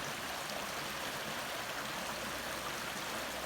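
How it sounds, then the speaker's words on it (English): A stream running full of early-spring snowmelt on a cold March day, a steady broadband rushing and gurgling of water that stays close and even throughout, with no voices. "Streams are running good."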